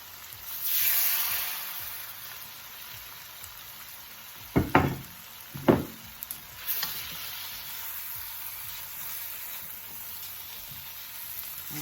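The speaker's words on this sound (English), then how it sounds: "After I stir the flour in, I'm gonna add the broth." Half a cup of broth poured into flour being stirred in a pan while cooking jerk shrimp rasta pasta gives a steady soft sizzle, broken by a few sharp spoon knocks against the pan midway, with no voices.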